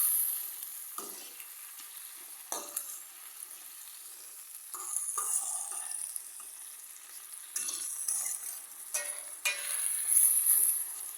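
Curry tin mackerel and ackee being stirred in a pan over slow heat, with a soft steady sizzle broken by intermittent scraping stirs, fairly quiet and close, no voices.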